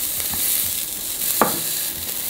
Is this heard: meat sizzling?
yes